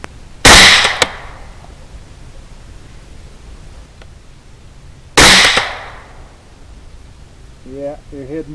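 Two sharp, loud rifle shots from a 6.5 Grendel with a Dracos Straightjacket barrel crack several seconds apart, each trailing into a short decaying echo, and a voice speaks briefly near the end.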